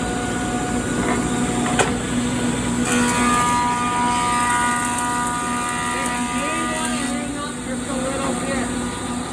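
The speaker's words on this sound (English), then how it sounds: "I'm gonna now check this planer" A thickness planer feeds a glued-up wooden cutting board through, making a loud, continuous mechanical roar and drone with a brief sharper tick near the start, steady and close for the whole stretch.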